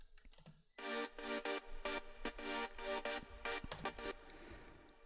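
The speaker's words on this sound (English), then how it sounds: "and these chords sound like this." Synthesizer chords made in FL Studio, sounded as a run of short, bright rhythmic stabs that start and stop sharply, fairly faint, with a few scattered clicks before and after.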